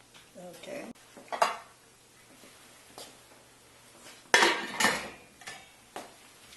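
A pot of meatball sauce is shifted onto a back burner with a few scattered metallic clanks and scrapes of cookware, brief and close with quiet gaps between them.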